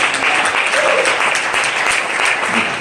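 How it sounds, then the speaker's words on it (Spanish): Steady applause from a church congregation during a sermon, loud and continuous for the whole stretch, a dense crowd of hands with no one speaking over it. "Denle un aplauso al Señor, hermano."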